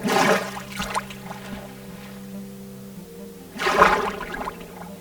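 Minecraft water sloshing and splashing as a character floats on the surface, a louder splash at the start and again near the end with softer trickling and a steady low hum between.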